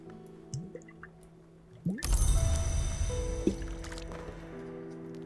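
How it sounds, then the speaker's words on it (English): In the Book of Hours video game, water splashes onto the stones of a well in a sudden wet rush that settles into a steady trickling wash, heard over a quiet tonal background. "little water splashes on the stones of the well to nourish the mosses there"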